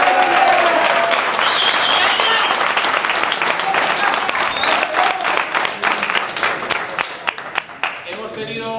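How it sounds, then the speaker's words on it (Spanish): Audience applauding a boxer introduced at a boxing weigh-in event, loud sustained crowd clapping that thins into more separate claps toward the end, with voices audible beneath. "Pido un aplauso para él."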